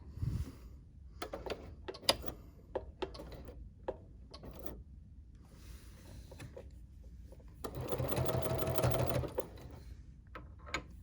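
A Bernina sewing machine stitching fabric with a binder attachment, short bursts of mechanical clatter separated by pauses, then a longer steady run of stitching near the end, close and fairly quiet.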